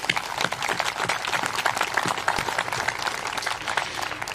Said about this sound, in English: Let's give all of our sponsors and volunteers a round of applause.